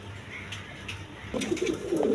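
A pair of modern-breed pigeons with spangled colouring coos softly in a pigeon-selling setting, with low murmuring coos over a steady background hum.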